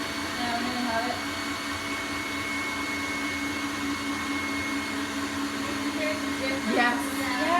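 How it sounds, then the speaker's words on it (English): A stand mixer runs continuously while cake icing is being smoothed, giving a steady, loud motorised whir with a constant hum that barely changes throughout. "It's on the mixer. So it's starting to pick it up now."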